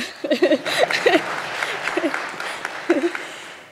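An audience at the Ethio-American Chamber of Commerce inaugural assembly applauds in a moderate, steady round of clapping, while a voice speaks over it.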